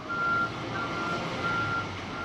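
A truck's reversing alarm beeps in long, steady tones at a construction site where towers are going up, heard over a constant rumble of traffic and machinery.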